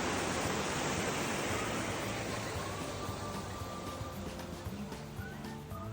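Waves wash and rumble continuously, a broad steady surge of surf with no voices, loud and close throughout.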